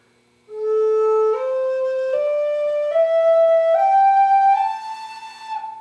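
A breathy wooden flute plays a slow ascending scale, one sustained note at a time, clear and solo with no other sounds.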